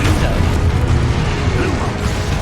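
Confringo fire-spell blasts in Hogwarts Legacy on PS5: a dense, continuous barrage of heavy booming bursts and deep rumble with no break, loud and close throughout.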